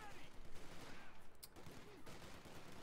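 Machine gun fire in Company of Heroes 2, a World War II strategy game: quiet rapid bursts rattle at a distance in a dense, uneven stream. A voice speaks faintly over the battle noise.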